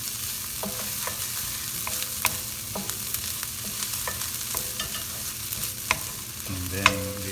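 Cheese filling for stuffed sweet peppers sizzles steadily in a pan, with repeated sharp scrapes and taps of a spatula stirring through it and no voices.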